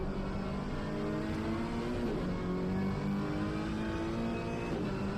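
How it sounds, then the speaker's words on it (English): Ferrari race car engine at Bathurst in a PS5 racing game, a steady high-revving drone with rising gear pitches and brief shifts, loud and continuous throughout. "Listening to that Ferrari sing"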